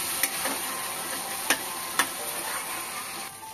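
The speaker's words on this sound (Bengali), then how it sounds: "এবার আদা রসুন বাটাটা দিয়ে খানিকক্ষণ কষিয়ে নিতে হবে, যতক্ষণ না রসুন আদার কাঁচা গন্ধটা যাচ্ছে।" Mutton is fried with ginger-garlic paste and stirred, a continuous sizzle broken by a few sharp scrapes or taps of the spoon against the pan.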